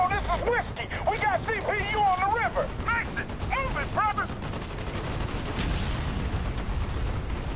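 Gunfire from the Call of Duty Black Ops campaign rattles in bursts beneath voices talking, then gives way to a denser, sustained wash of shots and battle noise.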